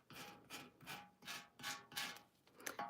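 Sandpaper rubs back and forth on an old metal milk can in about seven even rasping strokes, close but faint.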